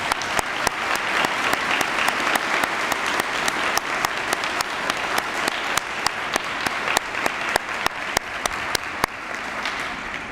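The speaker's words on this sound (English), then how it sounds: "Could we have a round of applause for those people," Sustained applause fills an honors ceremony hall, dense steady clapping from a large audience with a few sharper individual claps standing out, continuing throughout without fading.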